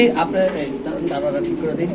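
King pigeons at a pigeon farm coo softly in low, steady murmurs, blending with nearby voices talking over the birds.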